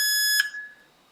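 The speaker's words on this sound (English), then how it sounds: "So that's actually because we've got this capacitor here and it's storing a little bit of charge, and that's why it's giving a little beep" A drone flight controller board beeps once as its capacitor discharges, a short, clear, close electronic tone that cuts off and fades quickly into near silence.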